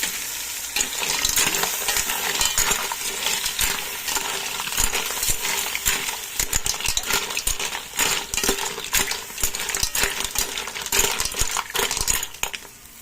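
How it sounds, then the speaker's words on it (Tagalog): Mussels being stirred in a cooking pot for ginataang tahong, sautéed with aromatics: steady scraping and clattering of shells against the metal pot over a constant sizzle, loud and close, with no talking. "Mix natin guys yung ating tahong"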